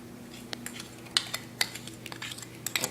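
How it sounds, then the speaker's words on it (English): Minced garlic and salt mashed with a fork in a bowl, giving irregular metallic clinks and light scrapes, close and alone. "And then you mash it with a fork until it looks about like this."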